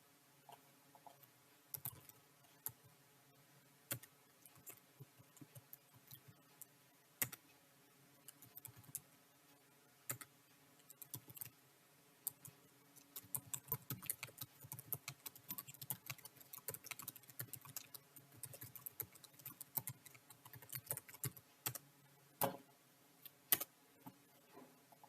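Keystrokes on a computer keyboard while a password is entered, irregular bursts of crisp clicks with short pauses, close and fairly quiet, no speech.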